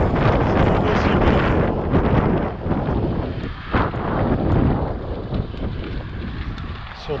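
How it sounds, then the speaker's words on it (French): Strong gusting wind buffets a microphone outdoors on a windy cycling trip, a loud continuous low roar that swells and dips, briefly easing near the middle before surging again, with no voice over it. "Trop de vent, j'en ai marre."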